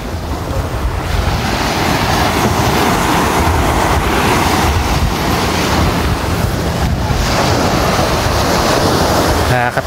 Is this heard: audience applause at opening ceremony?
no